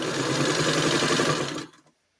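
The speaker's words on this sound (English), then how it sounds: "I'm talking to my sewing machine. Come on, are you going to sew now?" A domestic sewing machine stitches steadily up close with a dense, even mechanical whir, then cuts off abruptly near the end, leaving silence.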